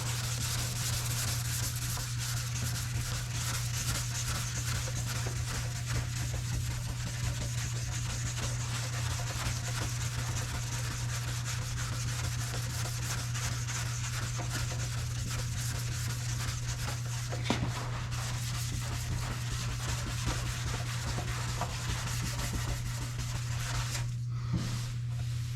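Sanding block rubs back and forth over primed body panel on a 7th gen Honda Civic, a continuous close scratchy rasp with steady strokes and a low electrical hum running throughout.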